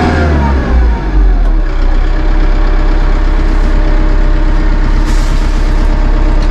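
Massey Ferguson 2850M compact utility tractor engine idling, heard inside the quiet cab as a steady low drone that stays constant and even, with no voices.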